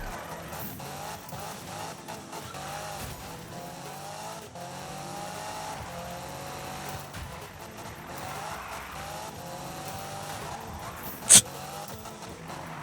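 A car drifting in Need for Speed (2015), engine droning at high revs with rising and falling pitch and faint tire squeal, steady and fairly close, with one sharp click near the end.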